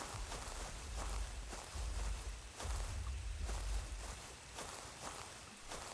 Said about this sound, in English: Okay, I heard some big footsteps